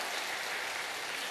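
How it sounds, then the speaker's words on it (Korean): A church congregation applauds briefly, a dense, steady wash of clapping filling the short moment. "박수를 하는 권사님들이 있는데 크게 해도 괜찮습니다"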